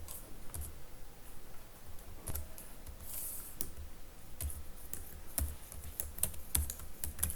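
Keys on a computer keyboard are tapped to enter a database name in SQL Server, giving sparse, close clicks at an uneven pace over a quiet room hum, with no voices.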